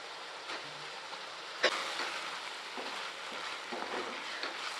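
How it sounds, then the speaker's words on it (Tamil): Boiled eggs are gently stirred into frying tomato egg thokku, under a steady soft sizzle broken by one sharp clack of the spoon on the pan early on. No voices. "இப்போ வேக வச்ச முட்டையை சேர்த்து மெதுவாக கலந்து விட்டுக்கலாம்"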